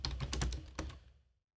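Brief run of quick keystrokes on a computer keyboard, close and crisp clicks in a short rhythmic burst that fades to silence.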